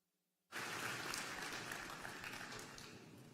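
After a brief hush, a large commencement crowd at Millersville University erupts into loud, sustained applause for the doctoral candidates, the clapping holding strong before slowly easing.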